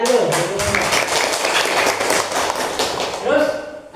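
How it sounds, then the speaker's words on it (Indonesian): Students in a classroom break into a burst of applause, a dense, busy patter of many hands that carries on for several seconds before tapering off, with voices mixed in. "Tepuk tangan dulu."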